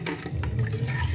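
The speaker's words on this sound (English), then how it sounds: "So right now I'm adding water" Water pours into a pot of ogbono soup, a short close splashing and gurgling over a low rumble.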